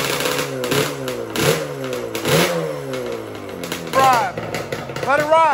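A Yamaha Banshee two-stroke bike's engine revs in repeated rising and falling bursts while being warmed up in the early morning, loud and close, with people talking over it.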